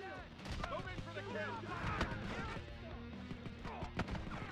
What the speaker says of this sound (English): Just kept getting shot from every angle,